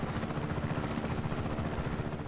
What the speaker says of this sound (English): There's a very blue helicopter.